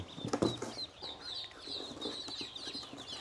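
Young ducklings in a box give a steady run of high, thin peeps that repeat throughout, with some soft scuffling and rustling close by.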